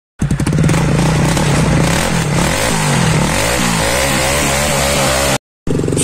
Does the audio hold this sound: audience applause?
no